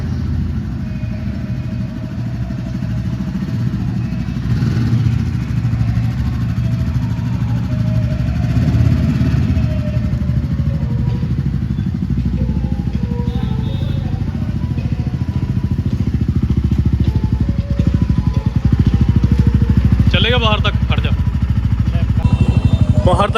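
Motorcycle ridden with the engine running steadily and close throughout, rumbling continuously while people talk over it.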